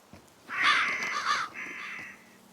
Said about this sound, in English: Why were those birds in my left ear?